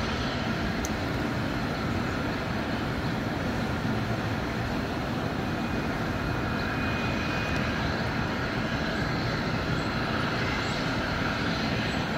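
An Ornge air ambulance aircraft arriving after a police chase in a Kitchener park, heard as a steady, loud, broadband engine roar that stays constant throughout.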